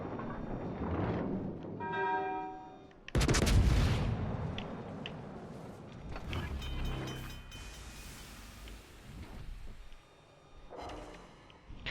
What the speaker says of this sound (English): These shots ricocheting off a fucking cruiser